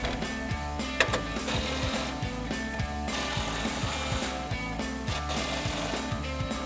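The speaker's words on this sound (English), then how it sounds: "Go ahead and tighten all of these down." Bolts being tightened on a grille guard bracket for a 2019-2024 RAM 1500 truck: a rapid, rattling impact-wrench hammering that runs continuously at close range, with brief metallic clicks.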